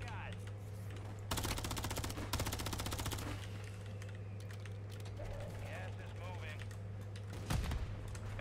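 Bursts of automatic gunfire from an elevated shooter in Warzone, several rapid rattling volleys in the first half and one more burst near the end, close and loud over a steady low game hum.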